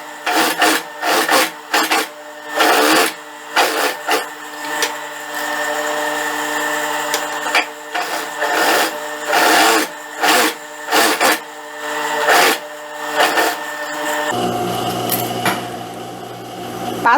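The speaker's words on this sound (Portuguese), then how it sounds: "Aumento um pouquinho aqui o ponto da máquina e passo uma costura bem na bordinha e outra com meio centímetro de distância" A domestic sewing machine runs long gathering stitches along the edge of a dress, in repeated close motor bursts separated by short pauses, with one longer steady run in the middle.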